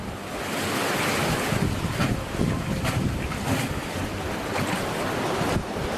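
Ocean waves wash steadily into the Thunder Hole blowhole inlet at Acadia National Park, Maine, on a calm sea, a continuous close rushing surf with gentle swells and wind noise across the microphone.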